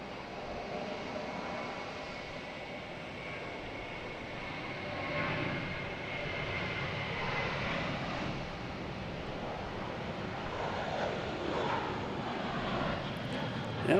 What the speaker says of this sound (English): we have a JetBlue taking off, heading to Houston